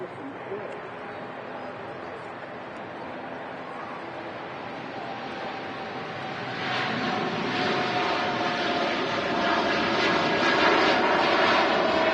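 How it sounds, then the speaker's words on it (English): A TUI Boeing 787 Dreamliner takes off at Manchester Airport: a steady, broad jet roar that swells noticeably louder about halfway through and holds there as the engines reach full thrust. "Here we go, the TUI Dreamliner finally on the roll."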